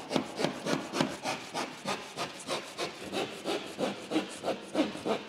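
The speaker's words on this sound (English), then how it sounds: "Very compact plasterboard. Very hard to cut. I'm going to kind of trim the top a bit." Compact fire-resistant plasterboard is trimmed with steady back-and-forth saw strokes, about three per second, each a rasping scrape. The cutting is close and moderately loud, with no voices.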